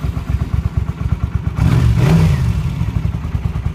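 A 1981 Honda GL500 Interstate motorcycle with an aftermarket exhaust and re-jetted carburetors fires up close by, going from a steady rhythmic idle into a louder, sustained rev, then settling back to a throbbing idle.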